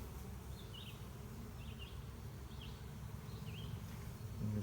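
Honeybees buzzing around a beehive during a hive inspection, a steady low drone of many insects close by, with a few brief higher buzzes of individual bees passing near.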